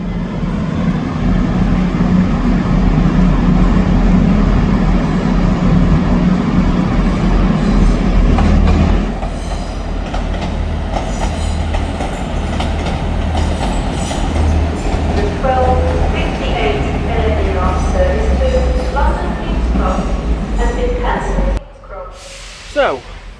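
A CrossCountry train pulling out of York Station: a loud, close diesel rumble and rolling wheel noise that eases after several seconds, followed by squealing, whining tones as it moves off, with a voice talking over it.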